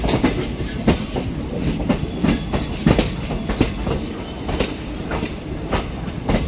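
The 04217 Lucknow Intercity SF Express rolls along the rails between Varanasi and Ayodhya, its wheels beating a steady clickety-clack rhythm over a constant rumble, heard close from inside the train with no talking.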